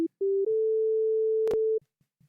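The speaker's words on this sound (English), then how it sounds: "drag it all the way to the bottom left, look at that. It's a sine wave." A pure, steady sine tone from the Harmor synthesizer holds for about a second and a half, stepping slightly in pitch at the start, with a brief click near the end.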